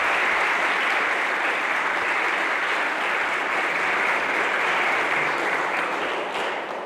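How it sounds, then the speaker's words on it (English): Audience applause for a contestant at the Miss Hummelstown 2021 pageant, a full crowd clapping continuously for nearly seven seconds at steady volume before easing off slightly at the end. "how about one more round of applause for Alyssa"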